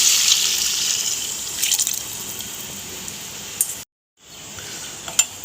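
Coconut milk is poured from a bowl onto marinated chicken for Chettinad chicken biryani. A steady close liquid splash and trickle runs for several seconds, breaks off briefly, then resumes with a light clink.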